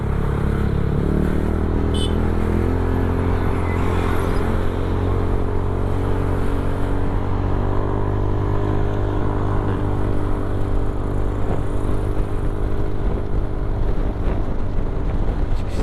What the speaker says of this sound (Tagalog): Smooth na smooth pa rin yung tunog ng tambucho.